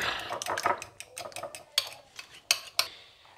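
Eggs with salt and red chili being whisked by hand in a bowl, a rapid series of close clinking taps of metal against the dish that slows into a few sharper strikes near the end.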